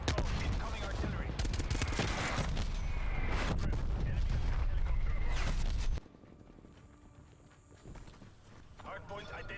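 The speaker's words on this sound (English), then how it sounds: "Hostile artillery targeting active." Artillery strike and gunfire in the Black Ops Cold War multiplayer video game, dense rapid bursts and impacts loud for several seconds, then dropping to quieter scattered noise, with a voice speaking over it.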